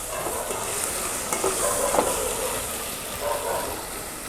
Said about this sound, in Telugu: సగం స్పూన్ పసుపు. బాగా కొంచెం వేయించుకొని